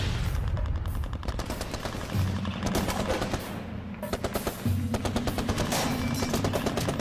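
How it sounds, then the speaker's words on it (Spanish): Loud rapid bursts of automatic gunfire from a 1957 rebel ambush on a military patrol in Cuba rattle repeatedly over a low droning background, with brief pauses between volleys. "Cuando suenan los primeros disparos, el Che se encuentra cara a cara con el enem"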